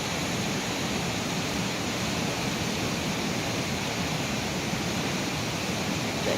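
A forest creek on a hiking trail leading toward Tokatee Falls rushes steadily, a dense broadband roar of flowing water close by and unbroken throughout, with no voices.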